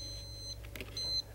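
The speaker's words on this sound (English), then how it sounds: "it's beeping to indicate to me that if I've got a good steady rhythm of a beeping, that means I got a pretty good signal" Radio-controlled atomic clock movement beeping while it receives the time signal, a short steady tone pair over a low background hum, fairly faint and close.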